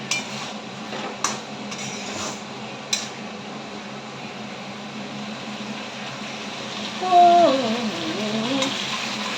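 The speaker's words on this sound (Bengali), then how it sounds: "আর এই যে দেখো কষিয়ে নিচ্ছি" A dish is being sautéed in a pan with a low continuous sizzle, broken by a few sharp spatula clinks near the start; a faint wavering hum or voice drifts in later.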